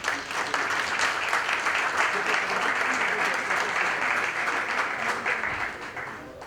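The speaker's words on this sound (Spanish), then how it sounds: "Lo recibimos con un fuerte aplauso, por favor." A conference audience at a nut industry meeting in Mendoza applauds a presenter, a sustained dense wash of clapping from a large crowd that holds steady and then tapers off at the end.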